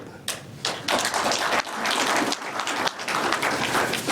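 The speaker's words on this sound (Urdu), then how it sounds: "سارے اجلاس میں پہلی مرتبہ آپ نے تالی بجائی ہے." Audience in a government meeting applauding, a loud, dense burst of clapping that continues throughout with a few heavier thumps, close and sustained.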